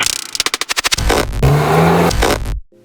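A Volkswagen MK8 Golf R engine on its factory exhaust starts with a few sharp pulses, then revs up hard and holds a loud, close drone before cutting off abruptly.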